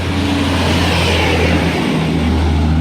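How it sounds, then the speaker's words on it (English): Road traffic passing near an outdoor field, a loud steady engine rumble and tire roar from a vehicle going by close, continuous with no talk. "sorry for the traffic noise going by."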